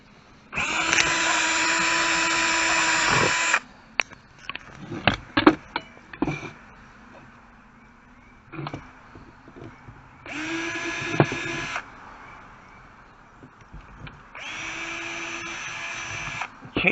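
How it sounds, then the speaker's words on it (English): A power drill drilling out a part of a skill saw during a repair whines steadily in three separate bursts. Clanks, taps and handling knocks fill the pauses between runs. "We'll drill that other one out."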